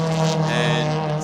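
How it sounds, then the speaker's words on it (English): A steady Porsche race car engine drone with strong harmonic tones, held at high revs climbing a hill at Phillip Island during a short stretch, loud and close. "these cars up through the gearbox, using all the revs they possibly can"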